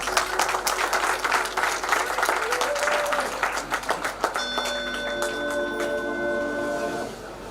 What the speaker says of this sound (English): you can give a bigger round of applause